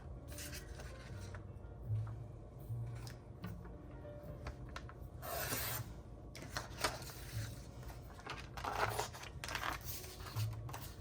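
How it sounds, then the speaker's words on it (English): A paper cutter slicing sheets of paper with quiet scraping and sliding strokes and scattered small clicks and taps, close and soft, no talking. "I'm gonna use my paper cutter just because it's mostly like straight lines and I cannot cut very well"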